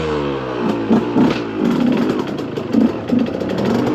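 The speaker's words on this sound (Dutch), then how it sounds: "We gaan weer het leuk ritje rijden op de schakelmotor." KTM 125 EXC supermoto motorcycle engine heard onboard, a buzzing two-stroke note rising and falling in short revving bursts, loud and close throughout.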